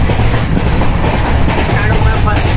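Kochuveli Express train running between Udupi and Kochuveli, heard from inside the coach as a loud, constant rumble with rhythmic clickety-clack of wheels over rail joints.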